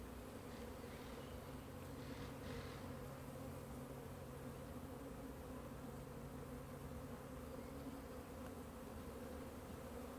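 A steady, dense hum of honeybees from a hive in a fallen tree drones on without a break, close and even throughout.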